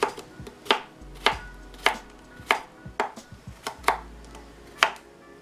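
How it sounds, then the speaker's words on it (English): A knife chops steadily through cucumber on a cutting board, about a dozen crisp, evenly spaced cuts close by. "Next, we're going to take our cucumbers and just slice them."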